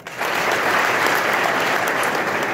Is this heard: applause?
yes